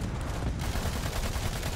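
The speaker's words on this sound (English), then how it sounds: "Airstrike" Dense rapid blasts and gunfire-like bursts rattle continuously and loudly during airstrike explosions in the video game Battleborn, a brief dense barrage with no pauses.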